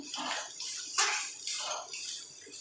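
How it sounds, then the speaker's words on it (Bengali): Small splashes of water poured from a spice bowl into a mixing bowl while dough for ghugni is kneaded, heard as a few short, close pours and trickles in quick succession. "অল্প অল্প জল দেবো আর সেটা দেখে করবো আমি মশলার বাটির জলই অল্প দিলাম"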